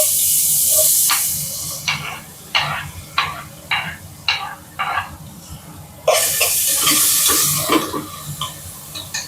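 Small onions (shallots) hit hot oil in a pan for a chicken gravy, giving a loud, hissing sizzle. Rhythmic scraping and stirring knocks follow, then a second strong burst of sizzling near the end.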